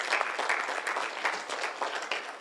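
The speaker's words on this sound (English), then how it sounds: "A round of applause" Audience applause at a Kenyan internet summit and awards event, close and lively, with individual claps standing out in an uneven, busy patter for a couple of seconds.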